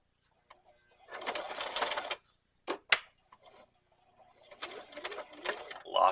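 Home sewing machine stitching through four layers of heavy canvas for an over-the-seat rifle carrier, running in two bursts of about a second each, separated by a few short clicks and knocks.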